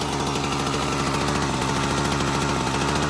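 A Husqvarna 122HD60 hedge trimmer's small two-stroke engine runs steadily at a warmed-up idle, loud and close, with a constant rattling buzz and no pauses throughout.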